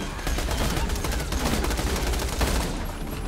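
Sustained gunfire in Borderlands 2, a dense and loud fusillade of rapid shots running without a break for about three seconds, with no speech over it.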